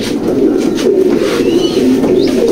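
Pigeons coo in a loft, a continuous low throaty cooing from several birds, close and loud with overlapping calls and faint rustling.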